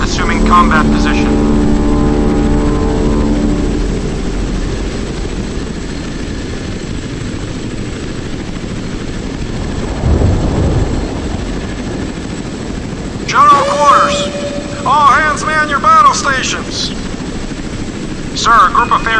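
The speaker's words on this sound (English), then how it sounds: "Take off. Helicopter taking off." A naval helicopter lifts off from a warship's deck in a video game, its rotor drone loud and steady throughout, with a swelling whoosh mid-way and game radio voices and speech cutting in toward the end.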